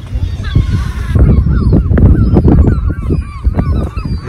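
Seabirds, gulls and cormorants, calling along the Breton coast near Cap Fréhel and the bay of Saint-Brieuc, a busy overlapping series of loud honking, squawking cries over steady outdoor background noise.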